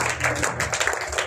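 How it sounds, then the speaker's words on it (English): Congregation clapping hands together in a church service, a dense, steady patter of many hands filling the short moment without speech. "May you clap your hand for the Lord Jesus Christ."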